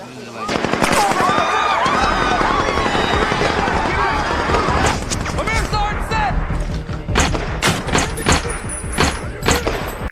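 Rapid bursts of gunfire and loud bangs in a war film, mixed with shouting voices and a dramatic soundtrack, dense and close throughout.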